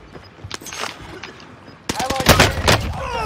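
Gunfire in a video game: a few scattered shots at first, then a louder cluster of rapid bangs, with a player's voice talking over the action.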